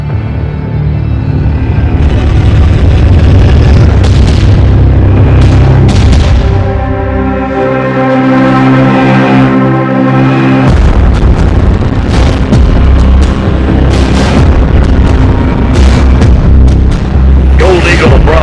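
In a Call of Duty Modern Warfare 3 stadium attack, loud booming explosions and bursts of gunfire pound for a long stretch, mixed with a heavy cinematic score and rumbling impacts.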